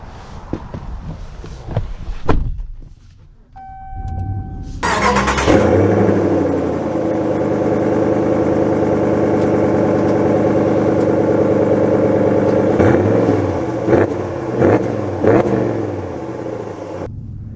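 A 2024 Ram Rebel GT truck with performance exhaust mods starts up after a brief quiet moment, then holds a loud, steady throaty engine and exhaust drone close by, with a few rev swells near the end.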